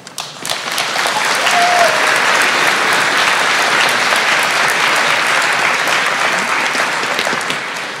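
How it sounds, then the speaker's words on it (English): Steady, sustained applause from a large audience at a high school holiday pops concert, loud and continuous for several seconds, without voices on top. "Please give an extra round of applause for all of the students who learned the solo part."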